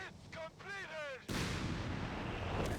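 Gunfire from units attacking ground through smoke in the Company of Heroes 3 strategy game, a loud dense roar of shots that starts abruptly after a moment of speech and continues steadily to the end.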